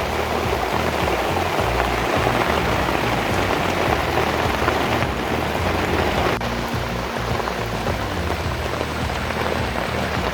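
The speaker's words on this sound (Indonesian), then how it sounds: "tiba-tiba hujan deras." Heavy rain drums steadily on a tent nearby on a mountain, a dense continuous patter with no voices and no pause.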